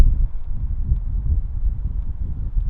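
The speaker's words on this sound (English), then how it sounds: "it's so windy, it's like hard to keep my hand" Steady low rumbling wind buffeting the microphone, a continuous muffled roar without voices.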